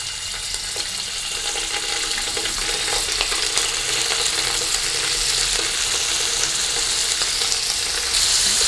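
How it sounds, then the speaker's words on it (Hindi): Paneer shallow frying in hot oil in a pan for vegetable qorma, a constant loud close sizzle with faint crackles and occasional stirring, no voices. "अब इसमें हम पनीर शैलो फ्राई करेंगे"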